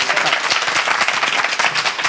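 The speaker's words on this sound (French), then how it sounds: "Bon, allez, on les applaudit, s'il vous plaît." Dense audience applause from a studio crowd at a French game show, steady clapping filling the whole stretch without pause or voices.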